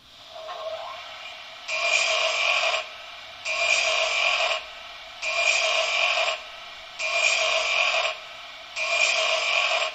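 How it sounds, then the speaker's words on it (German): A bench grinder sound effect from a Märklin H0 model tower railcar: a grinding, rasping mechanical whir repeats in five even bursts of about a second each, separated by short quieter gaps, fairly loud and close. "Die arbeiten an einem Schleifbock."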